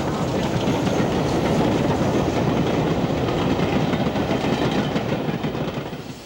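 A light Pacific steam locomotive hauls its train into Bournemouth, a loud, continuous rolling rumble with rhythmic clickety-clack of wheels on rail joints, close by and steady before easing slightly at the end.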